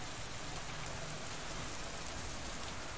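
Rain falls in a furry visual novel game as a dense, steady hiss of drops on a surface, continuous and even throughout with no voices.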